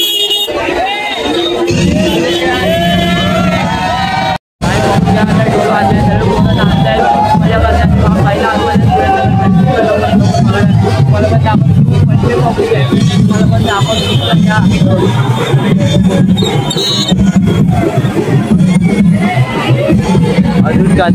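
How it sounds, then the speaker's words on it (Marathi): Loud, steady crowd hubbub from people gathered to await a Ganpati procession, with scattered horn toots and a brief dropout near the start; voices mingle throughout. "तुझ्यावर पब्लिक गर्दी आहे, पण बघून घ्या."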